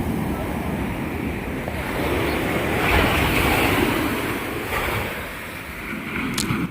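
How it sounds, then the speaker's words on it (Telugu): Sea waves in Goa surge against beachside compound walls and pull back, a continuous washing roar with wind buffeting the microphone. "అలలు చూసారు కదా, వచ్చి కరెక్ట్గా ఇక్కడ ఉన్న కాంపౌండ్ వాల్స్కి అయితే తగిలి వెనక్కి వెళ్తున్నాయి."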